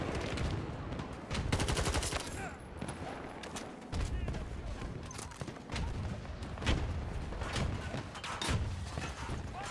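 Gunfire in the shooter game Battlefield 2042, including a pistol, with rapid bursts and sharp single shots in uneven clusters, fairly loud and close, mixed with other battle noise and a voice talking over it.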